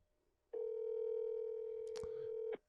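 Outgoing phone call ringing on the line, a single steady electronic tone lasting about two seconds after a quiet start, with brief clicks near the end and no talk.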